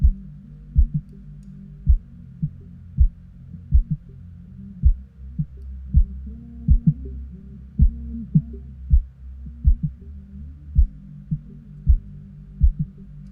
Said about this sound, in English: A regular EQ on the low end would sound like this.